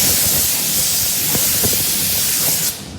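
A loud, continuous hiss of a hose spraying debris off rushes steadily up close, with faint knocks and spatter underneath, then cuts off abruptly near the end.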